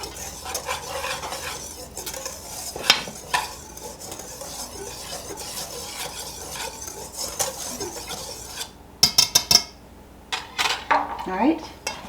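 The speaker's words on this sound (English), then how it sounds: "I'm going to give these a stir them all together." Ingredients for a cheesy quick bread being stirred together in a bowl, a spoon scraping and clinking against the sides in loose irregular strokes, with louder knocks and clatters near the end.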